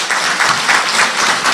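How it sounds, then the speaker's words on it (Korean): Brief burst of audience applause, a dense steady patter of many hands clapping at moderate loudness, with no voices over it. "저는 스스로한테 박수 쳐줘도 된다고 보고"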